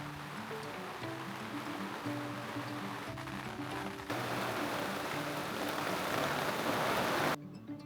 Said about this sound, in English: The weather has been absolutely insane between the wind and pouring rain showers.